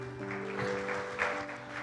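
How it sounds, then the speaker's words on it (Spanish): Applause from a church congregation praising the Lord, a steady wash of clapping throughout with sustained instrumental tones underneath. "Denle un fuerte aplauso al Señor."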